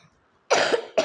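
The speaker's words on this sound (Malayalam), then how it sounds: "ഈ ചുമ എനിക്ക് പോക്കാൻ പറ്റത്തില്ല" A person's cough bursts out loud and close after near silence, one harsh burst followed by a second that starts just before the end.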